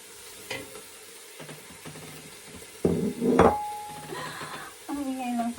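Chicken legs fry and sizzle in a pan as they are stirred, with knocks and scrapes of the utensil and a loud clatter near the middle, all heard close up while a person talks over it.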